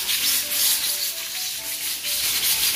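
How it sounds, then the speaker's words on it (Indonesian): A pressure cooker steaming milkfish lets out a continuous, broadband steam hiss that swells and eases slightly, close by and alone, with no voices. "Ini bandeng prestonya sudah mulai menjidih di dalam. Sudah keluar itu bunyinya."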